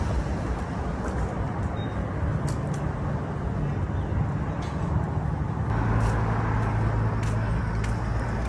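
Steady road traffic noise, a constant broadband rumble of cars and heavier vehicles passing, heard continuously and fairly close throughout.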